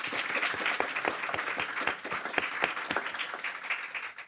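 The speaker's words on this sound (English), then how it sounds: "If you can give them another hand of applause." An audience at a care conference breaks into sustained applause, a thick wash of many hands with distinct claps popping through, steady and moderately loud throughout.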